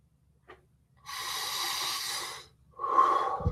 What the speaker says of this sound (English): Then big breath out the mouth.